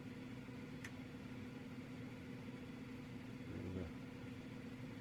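Twin turboprop engines of a Dash 8 Q400 in an X-Plane 11 simulation run steadily with a constant droning hum and tonal whine, a brief rising swell near the end as one engine spools up.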